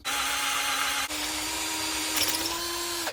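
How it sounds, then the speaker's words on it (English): An electric drill whines steadily at high speed drilling holes through an anvil stand, briefly dipping and restarting, loud and close with no voices. "I'm just going to finish drilling those through outside now"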